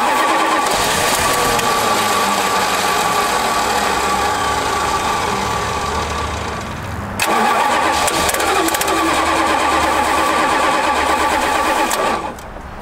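An abandoned Plymouth Fury's engine cranks with a steady loud whir, catches and runs briefly, then cranks again and fires into a rough, roaring start, close and loud.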